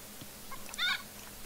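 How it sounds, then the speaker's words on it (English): A raven unit from the Odin faction in Age of Mythology lets out a short, harsh bird call about midway through, over a quiet, steady game backdrop. "Now we've got these crows, or ravens."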